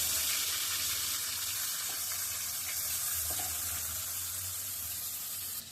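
Fish frying together in a pan produce a steady, hissing sizzle at moderate level with a few faint clinks, and no one speaks.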